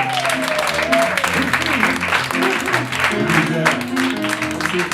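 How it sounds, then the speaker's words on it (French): Audience applause at a closing ceremony, continuous clapping mixed with cheers and overlapping voices, while music or a sung tone runs underneath. "on l'applaudit"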